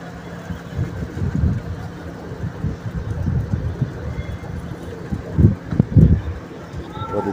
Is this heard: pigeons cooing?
yes